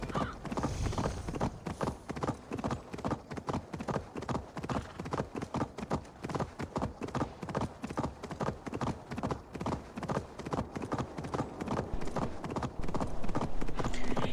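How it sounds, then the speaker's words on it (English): Fast, steady hoofbeats of a galloping horse in Assassin's Creed Valhalla clatter continuously throughout, close and rhythmic, with a faint whinny now and then. "Wow, my horse is fast."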